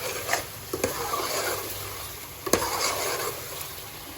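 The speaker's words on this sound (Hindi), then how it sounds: "कसूरी मेथी डालनी है और इसको हमने अब मिक्स करना है" Chicken karahi with kasuri methi being stirred in a pan: a soft, steady scraping and rubbing hiss with a few sharper utensil knocks, close by and fairly quiet, with no talking.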